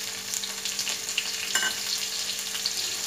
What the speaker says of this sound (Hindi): अब मैं इस घी में डालूंगी सबसे पहले जीरा, जीरा के बाद मैं डालूंगी इसमें हरी मिर्च